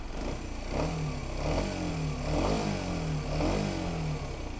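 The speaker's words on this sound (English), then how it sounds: "let's give it a rev." A used 125cc motorcycle engine is revved several times while idling, its note rising and falling in repeated swells over a steady low rumble, close and fairly loud.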